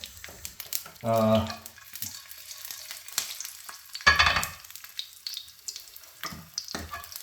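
Olive oil goes into a pan and gives a short burst of frying sizzle, then another louder hiss a few seconds later, with quieter kitchen clatter between.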